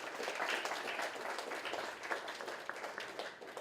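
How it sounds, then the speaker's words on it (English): Audience applause at a landscape architecture scholarship programme ceremony as a guest is called to the stage, a steady, moderately distant wash of clapping lasting a few seconds. "A round of applause for him."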